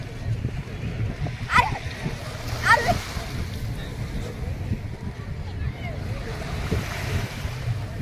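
Sea waves roll and wash ashore at Girgaon beach in Mumbai, a steady surf rumble mixed with wind buffeting the microphone, with voices and a few cries heard over it.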